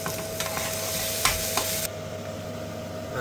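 Chilli and ginger-garlic paste frying with onions in a pan give a steady hiss with a few soft stirring knocks, close and continuous, the sizzle easing slightly toward the end.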